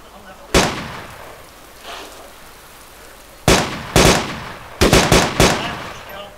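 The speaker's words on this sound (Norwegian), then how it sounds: "Skjøt han tilbake, eller?" Gunfire in the video game Arma 2 DayZ: a single loud shot, then after a pause a pair of shots and a rapid burst of four, sharp and close, with quiet voices between.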